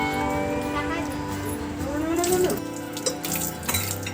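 Water is poured over a new bicycle to wash it during a home puja, making a continuous splashing, running-water sound up close, with irregular splatters toward the end.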